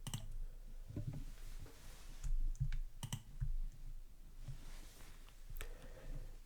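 Mouse clicks on slicer buttons in a spreadsheet pivot table, a few sharp, close clicks spaced irregularly over faint background noise.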